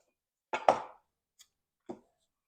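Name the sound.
knife cutting a tablespoon of butter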